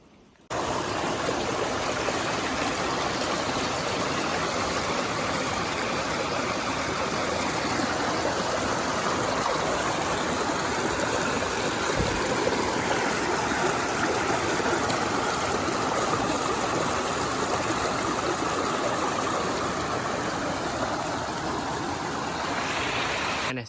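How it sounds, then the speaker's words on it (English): A small mountain creek flows over rocks on a hillside during a tahr hunt, a steady, close, broadband rush of water that runs unbroken the whole time with no voices. "Flat ground, little creek flowing"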